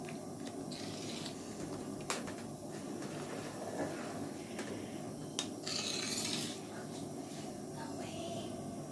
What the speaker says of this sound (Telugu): చూడండి సార్ ఎంత మంచిగా మరుగుతుంది.